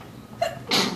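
A single sneeze in a room during a talk about political candidates, a short sharp intake followed by a quick breathy burst, close and loud, with no speech over it.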